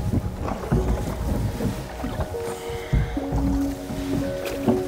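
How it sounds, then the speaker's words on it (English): Rowing a rowboat back across a windy lake in Sweden on the Kungsleden trail, with oar knocks and creaks, splashes and water sloshing close by under wind buffeting the microphone. "Now to row back with the second boat,"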